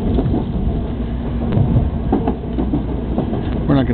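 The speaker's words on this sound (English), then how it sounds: "we got another bullet train just passing us in the opposite direction." A bullet train rushes past in the opposite direction, heard from inside a moving train as a steady low rumble with a soft rhythmic clatter and brief whooshing surges, with no talk.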